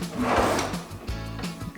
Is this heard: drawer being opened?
yes